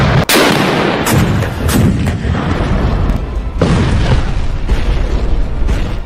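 Repeated heavy booming reports from an 8.8 cm Flak 18 anti-aircraft gun, loud and dense with rumbling echoes and overlapping blasts throughout, like battlefield artillery fire.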